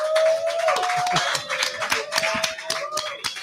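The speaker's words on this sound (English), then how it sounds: "Give me a round of applause, baby." Applause from a crowd at a sports bar's NFL Draft party, a steady patter of many hands clapping with a voice talking loudly over it throughout.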